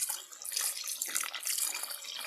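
Water pours into a pot of chicken curry masala before pressure cooking, a steady splashing stream heard close up for a couple of seconds with no talk.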